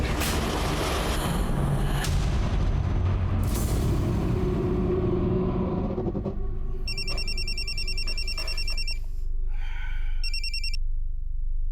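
Phone ringtone from repeated incoming calls in a Crime Patrol drama scene, with several short bursts of electronic ringing that follow louder, rumbling background sound.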